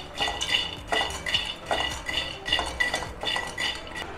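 Peanuts dry-roasting in a kadai rattle and scrape in rhythmic bursts as a spoon stirs them, roughly twice per second, close and clear with no talking.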